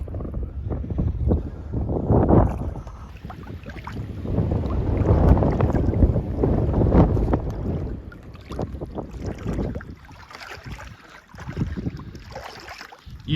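Gusty wind rushes over a lake around a canoe, a steady broadband roar with fluctuating swells and occasional water and paddle sounds, close to the microphone with no talking.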